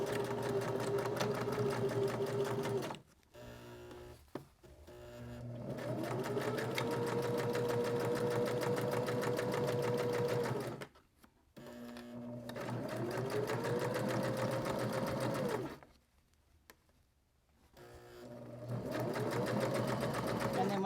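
A home sewing machine stitches necktie fabric for a purse, running in steady whirring bursts with short pauses between seams and a brief backstitch, close and alone with no talking.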